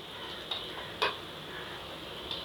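Turmeric, chilli powder and garam masala sauté with softened tomatoes in a pan for vegetable kurma, giving a faint, steady sizzle with a few light clicks of a spoon against the pan.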